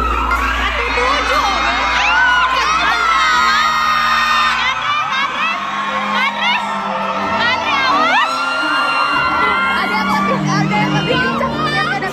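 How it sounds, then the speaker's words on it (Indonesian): A dense concert crowd of hundreds shouts, screams and cheers continuously, loud and close, with many high excited voices overlapping and swelling throughout. "Para penonton pun berteriak"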